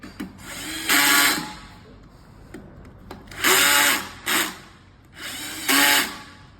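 Power screw gun driving in the motor cover screws of an EV electric scooter, four short whirring bursts separated by pauses, close and loud, with a faint low hum between runs.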